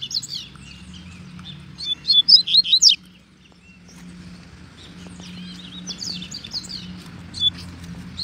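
A brown-plumaged white-billed coleiro (seedeater) sings outdoors in bright, rapid chirping phrases, a loud burst followed by softer, more scattered notes over a low background hum.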